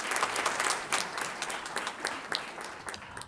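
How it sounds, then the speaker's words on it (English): An audience at a book launch applauds, a dense, steady patter of many hands clapping at moderate distance for a few seconds. "A round of applause for Antara and Anu."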